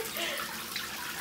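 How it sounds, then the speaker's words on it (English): Shower water sprays steadily over Pekin ducklings being bathed indoors, a continuous close hiss of running water with no other sounds on top. "It seems like they like the shower."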